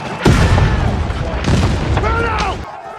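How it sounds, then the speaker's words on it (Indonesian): Deep booming blasts of cannon fire, several heavy thuds in quick succession with rumbling echoes, loud and close, amid battle noise. "Tembakan meriam gemuruh menghantam."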